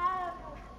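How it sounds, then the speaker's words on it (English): A short, close meow from a cat being petted in the game Hogwarts Legacy, one brief tonal call that fades quickly. "I had to pet the cat."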